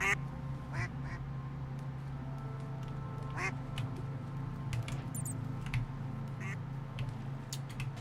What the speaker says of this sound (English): is that a duck?